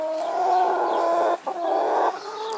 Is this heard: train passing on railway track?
no